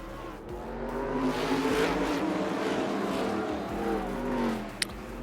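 A race car engine in a racing video game revs in a sustained, loud drone that rises and falls across the whole stretch, with a sharp click near the end and no talking.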